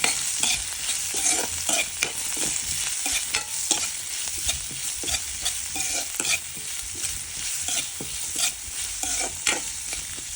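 Onion and curry leaves fry in hot oil for a squid gravy while a spoon stirs them, making rhythmic scraping strokes over a constant close sizzle.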